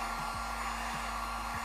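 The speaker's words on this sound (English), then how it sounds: "It's not a hairdryer, it's a heat gun." Heat gun blowing hot air onto plywood ribs during an aircraft kit build, a steady, even broadband whoosh that runs unbroken throughout with a faint low hum beneath.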